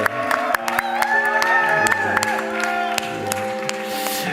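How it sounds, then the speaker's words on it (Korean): Church congregation at a Sunday service on Jeju applauds a soon-to-marry couple, steady mid-distance clapping with light cheers, while sustained organ or keyboard chords play underneath. "우리 이들을 향하여 격려와 축복의 박수를 먼저 하도록 할까요?"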